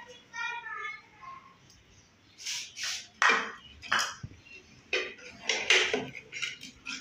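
Masoor dal or chicken curry being served from a cooking pot, with clinking utensils and scraping metal in separate bursts, and a voice faintly present near the start.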